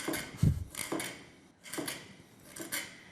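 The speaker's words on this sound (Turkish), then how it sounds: "Biraz daha doğramak istiyorum." A knife strikes a cutting board in a kitchen, chopping onions: a few separate, close, sharp thuds and clacks in an irregular rhythm, with no talk.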